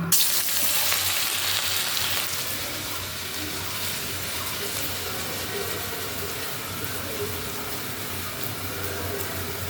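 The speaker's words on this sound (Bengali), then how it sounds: "ছোটো ছোটো বল বল কোপ্তার আকারে করে হ্যাঁ, ভেজে নেব" Small vegetable kofta balls, made from leftover dried-up vegetables, fry in hot oil over a medium flame with a dense, continuous bubbling sizzle that starts with a bright burst and then settles into a steady roar.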